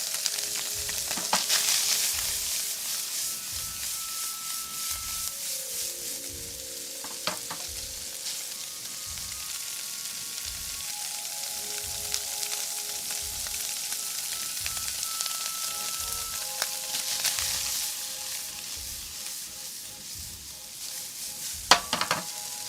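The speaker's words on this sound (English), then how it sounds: "you're going to hear a lot more of that sizzle" Continuous sizzle and crackle of rice frying in a hot pan, with rhythmic scraping and stirring strokes and an occasional clink of the utensil.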